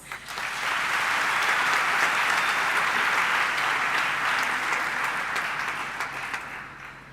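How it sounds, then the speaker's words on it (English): A university audience at an academic opening address breaks into sustained applause, a dense, even roar of many hands that rises quickly, holds for several seconds and then tapers off, with no talking over it. "I would like you to give yourselves a round of applause"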